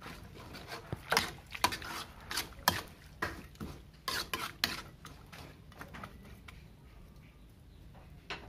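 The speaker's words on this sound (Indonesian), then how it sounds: "Lalu aduk hingga semua tercampur rata dan rebus rebungnya hingga empuk." Bamboo shoots are stirred in a cooking pot, giving a run of irregular clattering scrapes and knocks of utensil on metal that come close and fairly loud, then thin out toward the end.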